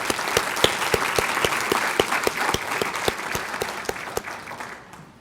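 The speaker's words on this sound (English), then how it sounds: "Please join me in giving all these folks a round of applause." Audience applause at a graduation ceremony for certified municipal officials: a sustained, fairly loud round of clapping with a few sharp, evenly spaced claps standing out, fading near the end.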